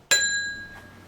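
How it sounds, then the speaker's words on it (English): A single bell is struck once, giving a sharp bright onset followed by a clear ringing tone that fades slowly over about a second, close and alone. "Okay, yeah, that stupid bell."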